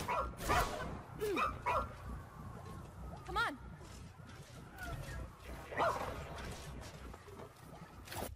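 A robot dog companion in the video game ReCore barks and yips in a string of short bursts over game ambience and background sounds, moderately loud and fairly close.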